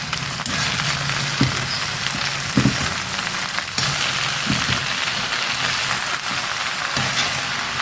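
Okra sautéing in a pan for a South Indian vendakkai pachadi: a steady, fairly loud crackling sizzle throughout, broken by a few soft knocks of stirring.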